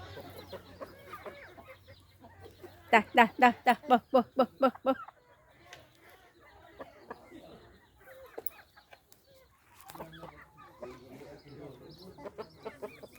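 A mother hen clucks in alarm to her chicks as a hawk threatens and gathers them under her wings, giving a burst of about ten loud, rapid clucks, with softer fowl calls and a person talking around them.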